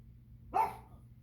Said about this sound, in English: my dog wants to go outside